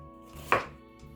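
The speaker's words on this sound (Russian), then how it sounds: "Пару луковиц нарезаем крупными кубиками." A single knife chop through onion being cut into large cubes on a board, one sharp close stroke with no talk.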